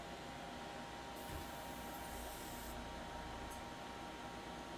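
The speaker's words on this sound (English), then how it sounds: "First, let me make sure this is actually going to spray." A paint sprayer is test-fired before painting a Master Grade GM model kit: a steady, faint hiss of air runs throughout, with a brief, sharper spray burst partway through.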